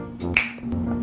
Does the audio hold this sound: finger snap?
yes